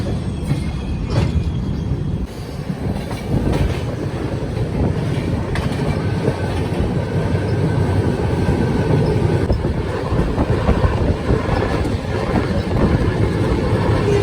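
The Yoga Express train rumbles steadily nearby departing Abu Road station, its heavy low roar and rattling carriages continuing throughout, with some wind buffeting the microphone.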